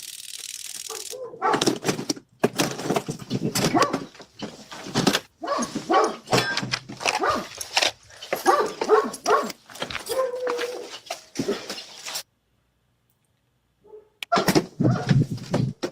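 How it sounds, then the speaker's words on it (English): Weak-sounding dogs bark and whimper in repeated bursts, a rough, strained chorus broken by brief silent gaps. "Look how listen to how weak those dogs sound."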